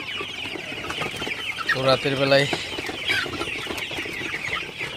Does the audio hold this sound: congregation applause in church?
no